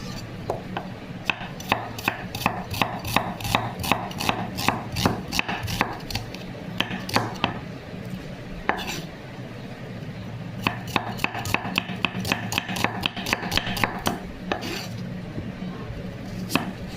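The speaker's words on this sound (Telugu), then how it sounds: "ఉల్లిపాయలు బాగా కట్ చేసుకొని ఉంచుకోవాలి." A knife chops onions on a board in quick, rhythmic, close strokes that run almost continuously, pausing briefly midway, with no talk over them.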